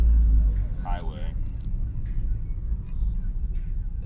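A 1987 Honda Prelude Si cruises in fourth gear at about 3,000 RPM on the highway, a steady low engine and road rumble, with a voice talking over it.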